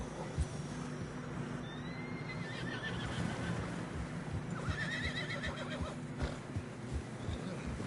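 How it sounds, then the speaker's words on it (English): Horses in Red Dead Redemption 2 trudge through deep fresh snow on a narrow trail, letting out several whinnies over a steady rumble of muffled hoofsteps and ambient noise. "Horses are struggling."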